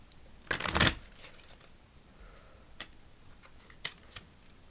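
A Spirit of the Wheel meditation card deck is shuffled in one brisk riffling burst near the start, followed by a few faint clicks and light card handling in a quiet room.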